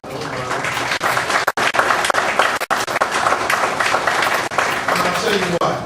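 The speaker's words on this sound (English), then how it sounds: "I really want to give her a round of applause" An audience at a barbering pinning ceremony breaks into loud, sustained applause, dense clapping that holds steady throughout with a few voices underneath.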